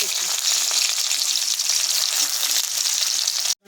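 Dried red chilli, nigella seeds and onion frying in hot oil for a Bengali fish curry with taro and potato, giving a loud, steady hiss and crackle that runs unbroken and then cuts off abruptly at the end.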